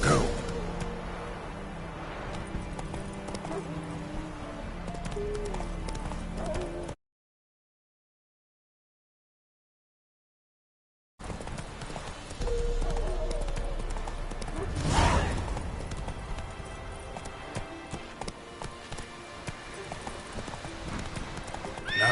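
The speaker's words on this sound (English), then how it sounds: "Not so fast, Roach." In The Witcher 3 video game, a horse gallops with quick, continuous hoof clip-clops and an occasional whinny. A voice speaks at times, and the sound cuts to silence for a few seconds midway.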